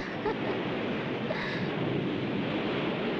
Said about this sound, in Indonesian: Awas ombak datang.